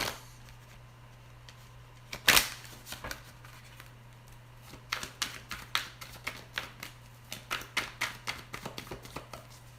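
Tarot cards being shuffled and drawn, heard as a sharp riffle burst near the start followed by a run of soft, irregular card snaps and flicks, close and fairly quiet over a steady low hum.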